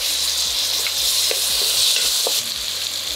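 Tomatoes sauté with minced ginger and garlic in a pan, a constant sizzle with spoon stirs clacking against the pan at a fairly regular pace, no speech.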